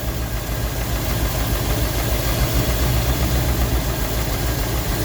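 A Rolls-Royce engine idles after a push of the throttle, giving a steady, low, rumbling drone with a slightly rough knock and nothing else heard over it.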